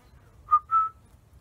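Two short clear whistled notes, a brief chirp then a longer sustained tone, imitating a quail's call, alone over faint low background rumble.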